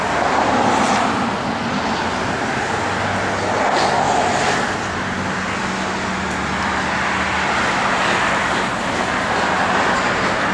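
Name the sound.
1979 Chevrolet Corvette driving down the road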